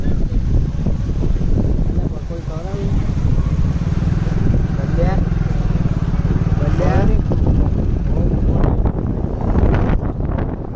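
Motorcycle riding on a road trip toward Dharoi Dam, a loud continuous engine drone with heavy wind rush buffeting the microphone throughout and a voice speaking over it.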